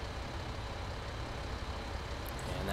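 Truck in GTA V rumbling at a steady low level, a broad engine and road noise with a faint hiss near the end, no talk.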